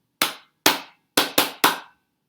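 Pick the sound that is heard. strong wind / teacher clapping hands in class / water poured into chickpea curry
teacher clapping hands in class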